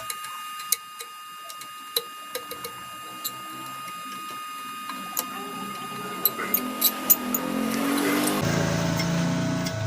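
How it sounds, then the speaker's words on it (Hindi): Rear cooling fan being fitted onto a water pump motor: a series of sharp metallic ticks and clicks scattered across the clip, thickening into a louder scraping, grinding rush near the end, with no talk. "अब हम इसके पीछे वाले पंखे को लगाएंगे।"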